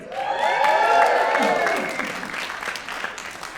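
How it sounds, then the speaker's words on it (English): Audience applause and light cheering at a stand-up comedy show in an electric theater, swelling loud then tapering, with a voice speaking over the fading clapping. "Thank you for the applause"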